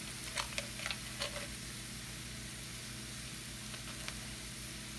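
Kordi dal fries in a pan with salt added, giving a faint, steady hiss with a few soft ticks and pops near the start and again later, with no voices.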